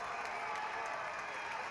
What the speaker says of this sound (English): Home crowd getting into it